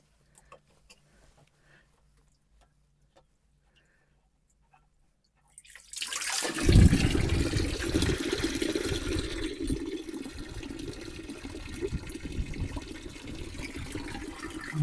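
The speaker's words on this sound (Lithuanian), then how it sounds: "Išleisiu vandenį." Water rushes out through a small valve on a pump lifted from a pit after a burst tap, starting abruptly after silence and continuing as a steady, fairly loud gushing flow.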